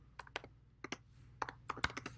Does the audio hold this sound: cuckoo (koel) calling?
no